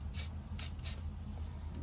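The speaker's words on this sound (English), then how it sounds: "It's got a lot of spray." Spray paint hissing from an aerosol can while a 1976 Ford Maverick steering wheel is being painted: three short, sharp bursts close by, each lasting a fraction of a second, then a quiet pause.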